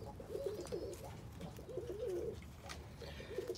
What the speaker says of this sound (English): This is just a quality pigeon holding itself the way a bird should hold itself.